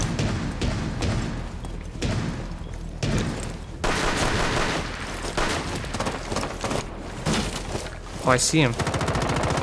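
Rapid bursts of automatic gunfire and booming shots in a Rainbow Six Siege match, loud and dense across the clip, with a player briefly speaking over the shooting.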